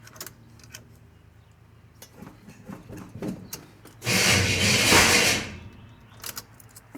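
A loud rushing burst from the torque converter of a 1986 Chevrolet C10 truck as its freshly installed engine is fired up, swelling for about a second and a half amid scattered clunks and rattles before dropping away.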